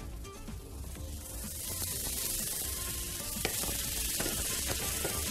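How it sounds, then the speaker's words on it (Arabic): Onion and red pepper sauté in a hot pan, a continuous bright sizzle with crackles and spits that grows a little fuller as it goes, close and with no voices. "راح نسوي شوية سوتيه مع الفلفل الاحمر"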